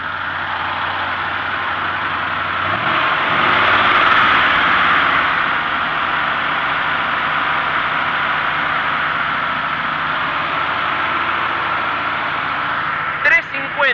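A Chevrolet Blazer's Chevrolet V8 350 engine idles close by, giving a steady, even rumble throughout, with a brief louder swell early on and a couple of sharp knocks near the end.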